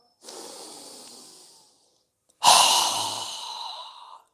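A strong, breathy exhale through the mouth during a yoga breathing exercise, preceded by a softer inhale, two broad airy rushes separated by a brief silence, close and clear with no talk.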